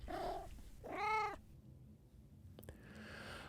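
A house cat gives two close, clear meows, one short and one longer and louder, followed by a quieter stretch of soft low purring and a faint rustle, with no talk.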